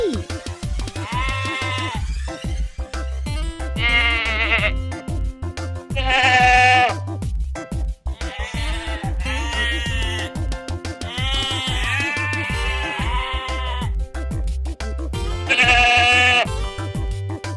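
Sheep bleating repeatedly in loud, wavering calls spaced a second or two apart, close and clear over a steady low musical backing.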